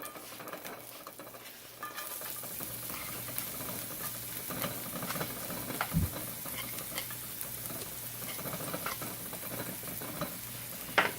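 Shallots sauté in olive oil in a pan over medium heat, a steady sizzle with stirring scrapes and a few sharper clinks near the middle and end, alone with no talk.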